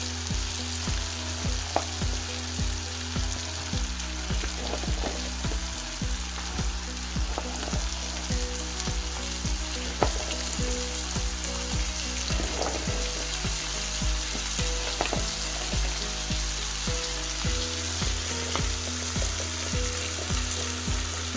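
Brussels sprouts sizzle and fry steadily in a hot pan with mustard seeds, a loud continuous crackle with occasional stirring scrapes, close and with no voices.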